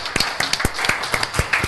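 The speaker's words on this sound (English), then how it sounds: "Let's have a big round of applause for our police department" An audience claps for the police department at a city council meeting, the hand claps coming as a sparse, uneven patter of distinct near smacks rather than a dense ovation.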